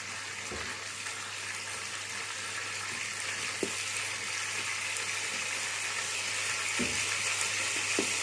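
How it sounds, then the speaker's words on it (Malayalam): Prawns shallow frying in oil in a pan for prawn moilee, a steady close sizzle with a few brief knocks and clinks, no voices. "ഇതൊരു ഷാലോ ഫ്രൈ മാത്രമാണ് നമ്മൾ ചെയ്യുന്നത്."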